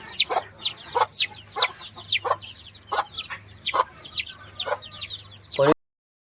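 Native desi chickens on a farm cluck and squawk nearby in a busy, overlapping stream of sharp calls, loud and close, ending with a sudden cut to silence.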